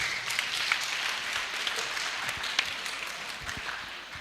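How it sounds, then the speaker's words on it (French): An audience at a question-and-answer session with alumni applauds a speaker, a steady wash of clapping from a crowd that holds evenly and fades slightly toward the end. "Applaudissez-le."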